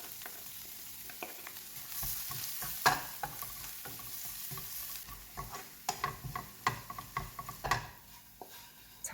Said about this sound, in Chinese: 加入少许的油 ，30克的蒜蓉炒至香